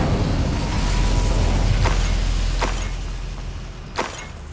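Casting Incendio in Hogwarts Legacy sets off a loud, roaring burst of fire that rumbles, then slowly fades. A few sharp cracks and a small pop come near the end, with no speech.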